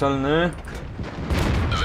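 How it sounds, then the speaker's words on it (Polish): A booming tank cannon shot in the video game World of Tanks follows a short harmonic tone, loud and close, with rumbling blasts and bursts of explosive noise trailing off. "Uwaga, ostatni strzał"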